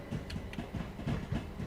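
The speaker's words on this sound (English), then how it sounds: "Trains, trains, and more trains." Trains on the Brighton Main Line in the Train Sim World 2 game: a faint, steady rumble of rolling stock with rhythmic clicking wheel beats, heard alone.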